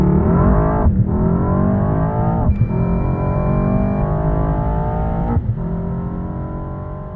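A Mercedes S63 AMG 4.0 V8 limousine launches hard from 0-100 km/h, its engine roaring and climbing in pitch through three rising runs broken by brief gear-shift dips, loud and close with no talk.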